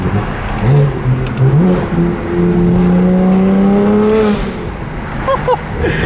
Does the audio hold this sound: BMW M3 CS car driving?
yes